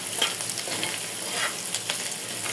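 Small shrimp and onion sizzle in a hot pan, a steady dense crackle close by with light scraping pulses and no voices.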